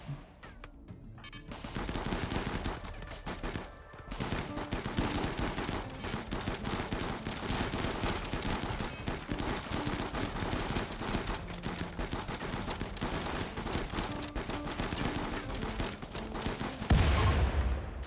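Automated turrets in RimWorld blaze away during a raid, a dense, unbroken stream of rapid gunfire lasting throughout, loud and continuous with no talking.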